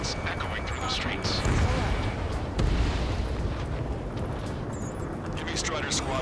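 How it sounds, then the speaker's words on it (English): Gunfire and roaring jets in Ace Combat 7 fill a city under martial law, a dense rumbling wash broken by two heavy booms, with a voice talking over it. "Gunfire and a roar of jets echoing through the streets."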